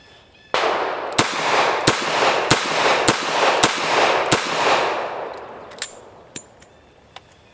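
A Webley Mk VI revolver chambered for .45 ACP fires six sharp, loud shots at a steady pace, then a few lighter metallic clicks and clanks follow as the shooting stops.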